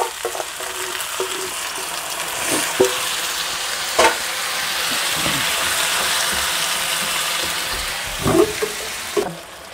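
Potato and onion masala for dosa frying in a pan, a continuous sizzle broken by several sharp scrapes and knocks of a spoon stirring, with no voices.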